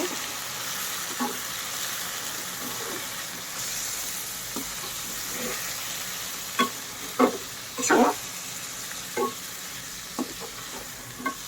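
Mutton pieces fry in hot oil in a pan, a continuous hiss broken later by several short scraping stirs and louder crackling bursts near the mic, with no speech.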